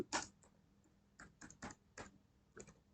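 Keys clack on a computer keyboard as a SQL drop table command is typed, about eight quiet, close, separate keystrokes in an uneven rhythm.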